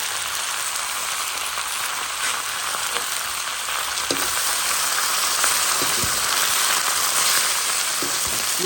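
Fish fries in hot oil with brèdes greens, a loud, dense, continuous sizzle with scattered pops and crackles, close by and with no talking.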